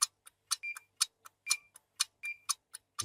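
A game show countdown clock ticks in a steady, fast rhythm of sharp, close clicks, with a few brief tonal chirps mixed in and no talking.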